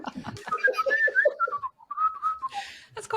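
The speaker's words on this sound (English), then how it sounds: "You whistling." A person whistles a short, lilting tune close up, with a rising and falling melody, a brief pause midway and a breathy noise at the end.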